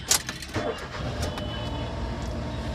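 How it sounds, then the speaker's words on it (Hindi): A CNG-converted car engine cranks with a few quick clicks, catches and settles into a steady mid-pitched idle at fairly high revs, recorded close by. "और तो गाड़ी हम स्टार्ट करते हैं"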